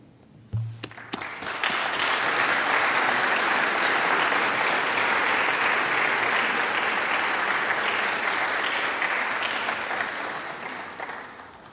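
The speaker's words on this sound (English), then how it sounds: "you may now applaud yourselves for a job well done" A large crowd of high school students at an annual oratorical competition bursts into loud, sustained applause after a brief thump, with clapping holding steady for about ten seconds before tapering slightly at the end.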